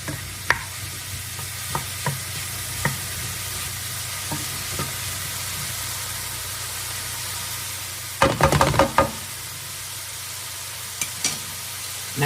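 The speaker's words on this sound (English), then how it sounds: "These are finally starting to sizzle." Pancakes frying in a pan give off a steady, soft sizzle throughout, with a few faint taps and a brief louder clatter of utensil stirring near the end.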